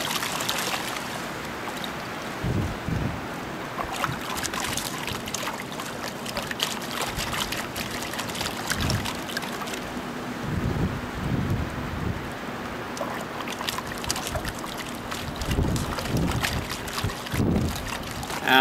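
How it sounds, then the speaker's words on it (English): Gold pan being shaken and swirled in water, steady sloshing and splashing churn with intermittent low knocks, continuous and close throughout. "I'm gonna try to pan it down real fast for you"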